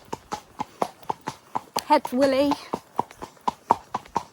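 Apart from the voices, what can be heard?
horse hooves clip-clopping while out for a ride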